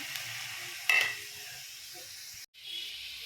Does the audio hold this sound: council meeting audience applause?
no